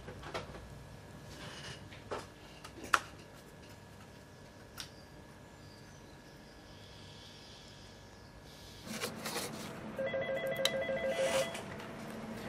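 A telephone rings in a quiet room, a faint electronic tone pattern with a few clicks and ticks, followed by louder room noise toward the end as if the phone is picked up.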